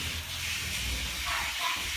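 Warm water rinsing debris off a dog's skin during a bath, a steady hissing spray that runs continuously and fairly close throughout, with no speech.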